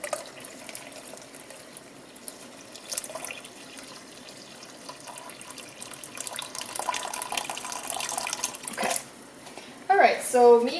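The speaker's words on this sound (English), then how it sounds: "so I'm going to add more water." Water pours into a pot of Korean seaweed soup that has boiled down, a rising gush near the end after quiet kitchen clatter and someone talking.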